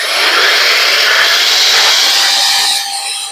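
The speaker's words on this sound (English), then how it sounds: "with our air gun we're going to then blow inside of here and just try and remove any loose particles" Compressed-air gun blasting inside an xTool F1 filtration unit to clear loose particles, a loud steady hiss held for about three seconds, then easing slightly at the end.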